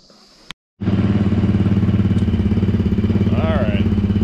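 A Polaris Sportsman 110 EFI ATV engine, just fitted with a new fuel pump, catches after a short click and settles into a loud, steady, fast-pulsing idle up close, with a brief high whine near the end.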